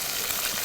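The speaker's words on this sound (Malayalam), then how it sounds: "ഇവിടെ മീൻ പൊരിക്കുന്ന സൗണ്ട്" Fish frying in a pan at an outdoor village cooking spot in Jamaica: a brief, dense hiss of hot oil, steady and fairly close, with no voices.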